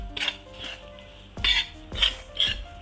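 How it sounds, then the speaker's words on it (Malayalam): A spatula scrapes and clinks against a pan while gooseberry pickle spices, chilli powder, asafoetida and fenugreek heat in sesame oil, giving four separate close stirring strokes with short pauses between them. "ഒന്ന് നന്നായിട്ട് ഇളക്കി കൊടുക്കാം"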